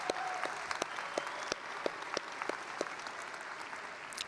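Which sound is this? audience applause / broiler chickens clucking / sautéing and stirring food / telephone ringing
audience applause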